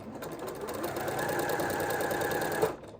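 A sewing machine runs a continuous quarter-inch seam joining quilt squares, a steady close whirring drone with rapid needle rhythm for nearly three seconds before stopping abruptly.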